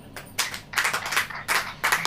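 A congregation claps during a church sermon, bursts of hand claps coming in several uneven waves, moderately loud and scattered, with no talking over them.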